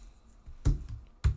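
Keys on a computer keyboard are struck while a command is typed, two distinct close taps about half a second apart over a quiet background.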